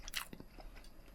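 Crunchy pork scratchings cooked the traditional way, not in an air fryer, bitten with a couple of sharp, close crackling snaps followed by brief chewing crunches.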